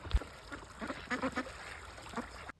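Wild ducks on a river quacking in a short scattered burst of several calls, fairly faint against a quiet outdoor background.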